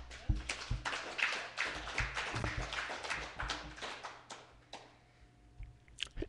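Audience at a poetry slam gives a short round of applause for a poet, fairly quiet and sparse, with uneven clapping that thins out after a few seconds.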